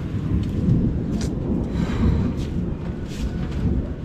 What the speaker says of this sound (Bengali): দেখো বলতে বলতে বৃষ্টি জোরে নেমে গেল।